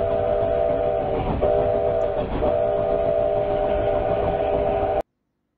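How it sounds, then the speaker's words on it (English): A train rolls steadily past, its long, sustained whistle-like tone holding nearly throughout with two brief dips, loud and close, then cutting off abruptly near the end. "Trains."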